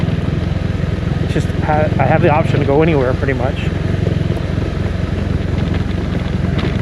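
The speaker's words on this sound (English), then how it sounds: "An adventure bike." Adventure motorcycle riding along rough backroads, its engine and wind a steady loud drone throughout, with someone talking over it for most of the ride.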